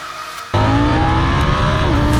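Loud exhaust of a KTM 790 Duke motorcycle bursting in after a brief quieter moment, then a steady, deep rumbling drone as the 105 hp engine pulls, close by.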